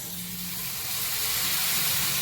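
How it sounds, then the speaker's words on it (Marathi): Dosa batter spread on a hot new tawa gives a broad steady hiss that swells slightly after the first second, close and fairly loud with no talk. "चला तर आता आपण मस्तपैकी डोसा घालूया"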